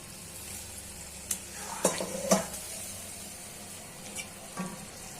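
Chicken liver masala (kosha bhuna) sizzles softly in a pan after broth is added, with a few sharp spoon-against-pot scrapes and clanks from stirring standing out over the steady low frying hiss.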